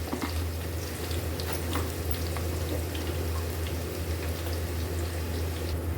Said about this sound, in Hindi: यहाँ पर हमने लहसुन को फ्राई कर लिए